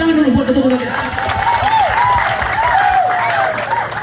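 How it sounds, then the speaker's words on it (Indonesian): A crowd claps loudly and steadily for the chairman at an indoor anniversary celebration of a local organization during heavy rain, with the applause sustained throughout and a voice and some ringing tones over it. "Tepuk tangan dulu buat ketua kita."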